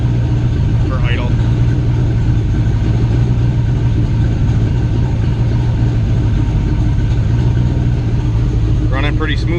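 An LS-swapped Fox Body Mustang idles on a cold start with a steady, loud low rumble throughout, joined by a brief higher whine near the start and the end.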